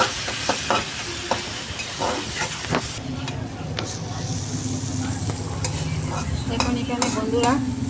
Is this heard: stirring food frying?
yes